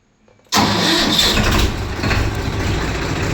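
A Swaraj 963 tractor engine cranks and catches abruptly after a brief quiet lead-in, then settles into a loud, steady diesel idle close by.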